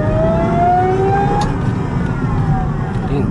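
A 2007 Cadillac STS with a 4.4L supercharged 32-valve V8 rated at 469 hp: a loud, close engine roar carrying a rising whine that climbs and then fades under a steady low rumble.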